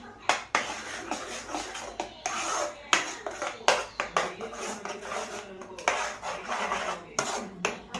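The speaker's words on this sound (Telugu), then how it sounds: "ఇప్పుడు ఒకసారి మొత్తం కలబెట్టేసుకుందాం" A spoon scrapes and clinks against a pan while paneer curry is stirred after salt goes in, the uneven metallic scraping coming in irregular bursts close up, with a voice talking over it.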